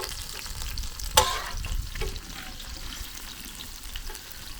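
Crab fried in oil in a pan in a village outdoor kitchen, with steady close sizzling, a sharp scrape or clatter as the pieces are flipped, then continued frying and stirring.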